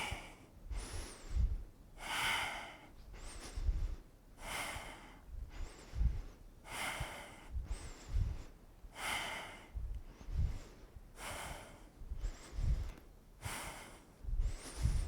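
Breathing during a leg exercise comes as a regular cycle of audible inhales and exhales, about a dozen breaths, close to the microphone and fairly quiet.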